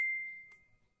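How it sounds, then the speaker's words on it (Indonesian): A single bright phone notification ding rings out clearly, then fades over about a second in near silence. "ada notif datang ke aku"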